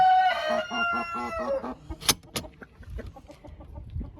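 Hens cluck close by in a chicken coop where a Silkie has just left her egg, with a run of repeated, rhythmic clucks followed by scattered shorter calls and background farmyard noise.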